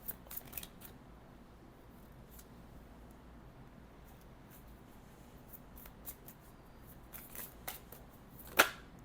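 Oracle cards being shuffled by hand, soft scattered papery flicks and taps close by with a sharper snap near the end, no talking.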